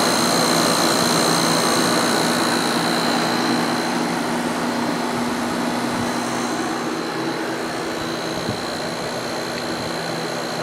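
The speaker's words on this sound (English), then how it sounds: "Compressor sounds nice and happy." A Sharp 10,500 BTU window air conditioner runs with its compressor on, giving a loud, steady mechanical hum and rushing airflow that holds unchanged throughout, with no voices.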